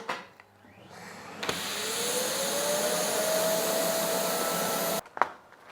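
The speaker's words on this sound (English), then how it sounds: "Then you just get the vacuum cleaner." A vacuum cleaner sealing a bag of selvedge denim whirs up to a steady, loud whine with a rising tone, runs for several seconds, then cuts off abruptly.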